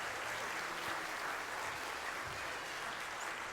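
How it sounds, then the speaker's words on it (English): Steady, dense applause from a concert audience for a symphony orchestra, a continuous wash of many hands clapping without pause. "How about another round of applause for Aaron"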